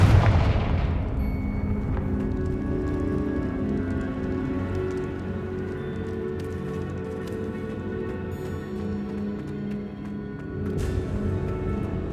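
A Confringo fire spell goes off in Hogwarts Legacy, a loud booming blast at the start followed by a sustained rumbling, crackling game soundscape that swells again near the end, with no talking.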